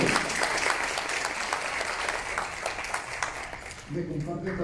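A crowd applauds at a housing-rights conversatorio, thick clapping sustained for several seconds before it thins out and a voice begins speaking.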